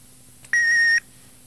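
An answering machine emits a single steady electronic beep, about half a second long, clean and close, preceded by a faint click and followed by quiet line hiss.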